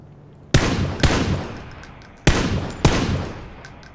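Four sharp, loud gunshots from PlayerUnknown's Battlegrounds, fired in two spaced pairs, each with a long echoing tail that rings out over a quiet background. No voices are heard.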